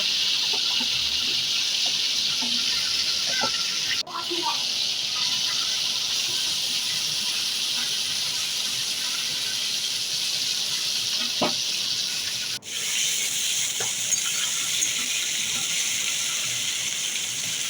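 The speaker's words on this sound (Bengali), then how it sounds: "মরুলা মাছগুলো দিয়ে দিলাম কড়াইতে হালকা ভেজে নেব" Mourala fish frying lightly in oil in a wok, a continuous loud sizzle and hiss with faint crackles, steady throughout apart from two brief dips.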